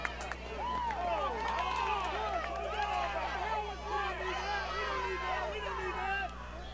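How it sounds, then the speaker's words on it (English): Traveling Ohio fans chant from the stands at a BGSU versus Ohio women's soccer semifinal, a distant rhythmic crowd sound mixed with voices, under steady broadcast hum. "if you can hear that chant, that's the away team's crowd out there"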